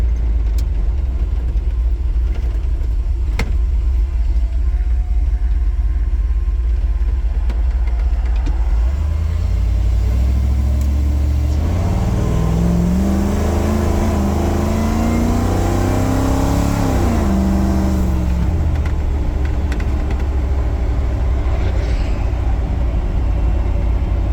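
A 1977 Ford F-150 with a mild roller-cam EFI 460 V8 pulls hard on a test drive, its engine note climbing through rising gears after a quieter idle-like start, loud and close with steady rumble throughout.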